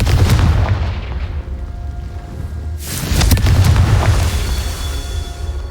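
Confringo blasting spells in a Harry Potter video game go off as two heavy booming explosions, each a sudden loud burst that rolls off into a decaying rumble, with no voices heard.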